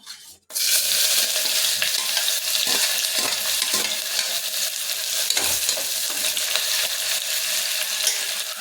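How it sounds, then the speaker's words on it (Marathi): Onion hits hot oil in a pan for a pumpkin bhaji, a sudden loud sizzle after a brief quiet start, then a steady close frying hiss with faint stirring clicks. "दीड पळी तेल टाकलेलं आहे. त्यात आता कांदा"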